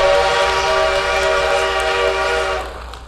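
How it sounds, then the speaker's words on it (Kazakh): Freight train on a new railway line out of Saksaul station in the Kyzylorda region, sounding a sustained loud horn over steady rolling rumble that fades slightly at the end. "алғашқы жүк вагондары бір мезетте жаңа темір желісімен алғашқы сапарға аттанды"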